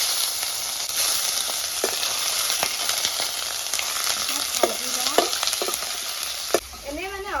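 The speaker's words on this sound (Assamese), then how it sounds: "গৰম তেলখিনি দিয়া হালধি লগা মাংসখিনি মই দি দিছোঁ" Turmeric-coated chicken pieces frying in hot mustard oil in a wok, a steady loud sizzle throughout with a few scrapes and clinks of stirring near the end.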